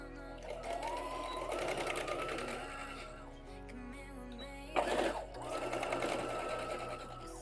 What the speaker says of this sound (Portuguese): Aqui eu vou fazer outra costura.